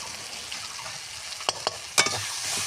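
Spices sizzle steadily in hot oil in a pan for an egg curry, with a few sharp scraping clacks of a spoon stirring through them, close and without talk.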